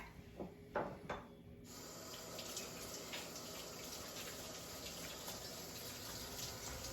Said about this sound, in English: we always want to wash our hands before we start playing with the food